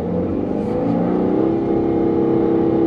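A Wuling Almaz Hybrid car accelerating hard in S mode, heard from inside as a steady loud engine and motor drone that rises in pitch smoothly over a few seconds.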